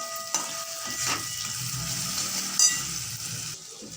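Chopped onion and garlic fry gently in a pan over low flame, giving a soft, steady sizzle close by with a few light clinks, and no one speaking.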